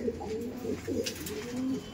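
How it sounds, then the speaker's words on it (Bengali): Madras pigeons coo softly and repeatedly at close range in a loft, low rolling calls over a quiet background. "প্রথমত হোয়াইট কালার পায়রা"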